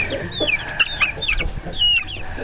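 Pelung chickens cluck in short, rapid bursts at close range, several birds overlapping in a rural Indonesian village flock.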